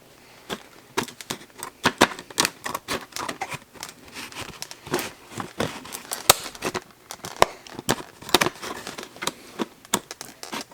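Cardboard packaging for a Craftsman V20 impact driver is torn and ripped open by hand, a series of sharp, irregular rips, crinkles and snaps close up, with no talk.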